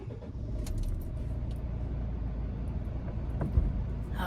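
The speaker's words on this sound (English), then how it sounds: "let's start up the engine" Keys jangle near the start, then a car's idling engine hums steadily with a soft rumble on a warm summer evening, windows open; a brief clunk comes near the end, and no one speaks.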